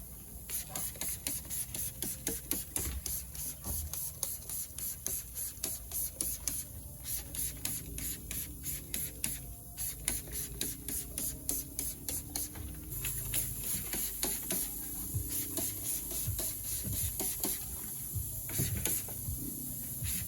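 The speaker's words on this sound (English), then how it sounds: "I like to spray MEGUIARS hyper dressing in all the wheel wells to make them look brand new again" Meguiar's Hyper Dressing sprayed into the carpeted wheel wells and suspension of a car during an exterior detail, giving a steady hissing spray with repeated short bursts and clicking trigger pulls, close and continuous.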